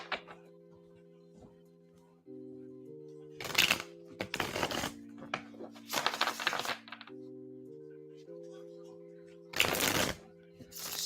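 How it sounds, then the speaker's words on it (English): Tarot cards being shuffled in several short bursts of riffling and rustling, close to the mic, with a soft steady background hum. "Shuffling for you now, Ray."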